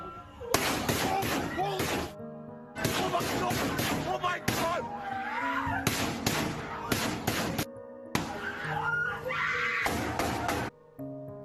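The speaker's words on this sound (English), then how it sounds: "We are just getting new video from inside the school as that deadly shooting was underway." Student-recorded phone footage from inside a school during a deadly shooting: loud, distorted, continuous chaos with bursts of sharp bangs, shouting and screaming voices, cutting in and out in choppy segments.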